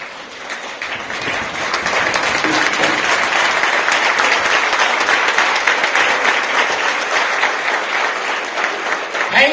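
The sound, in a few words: loud applause for the chief guest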